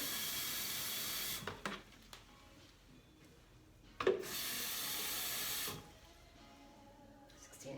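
Water running from a tap into a measuring cup to mix Barbicide disinfectant at a barber's station: a short hissing splash, then a longer steady gush of about two seconds, both close and clear with quiet pauses around them.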